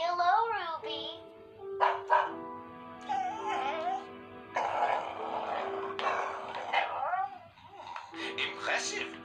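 A dog barks, yips and whimpers repeatedly in a Minecraft school roleplay, the calls close and lively, with voices talking around and between the barks.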